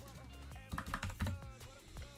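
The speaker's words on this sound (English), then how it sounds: "I'm trying a new keyboard. So it's got like the clicky switches." A clicky mechanical keyboard is typed on in short, quiet bursts of sharp keystrokes, with a few irregular clusters of clicks and no talking.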